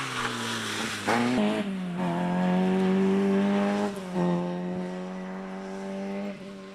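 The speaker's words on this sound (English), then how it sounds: "Another of the team pit stop cars." A rally car at the Lombard Tredegar 2021 rally stage drives close past with a loud, steady engine drone, pitch shifting as it passes and sharp bangs near the start.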